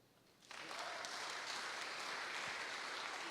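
Applause from an audience at a community event, starting from near quiet and abruptly rising into a full, steady wash of clapping that holds for the rest of the clip.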